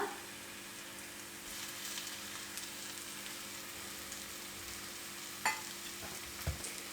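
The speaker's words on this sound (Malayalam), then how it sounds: "കറിവേപ്പിലയും നമ്മുടെ മുട്ട 4 എണ്ണം ഇതിലേക്ക് ഇട്ട് കൊടുക്കുകയാണ്" Four eggs sizzle steadily in a pan with curry leaves for a Kerala-style egg roast, a continuous even frying hiss with a couple of brief sharper pops.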